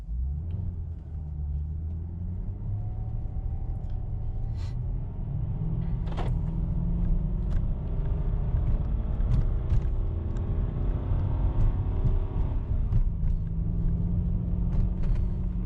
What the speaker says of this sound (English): here's full acceleration up this steep, you know, it's like a 200-meter long hill